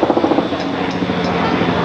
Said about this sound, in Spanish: allá va el señor gobernador en su helicóptero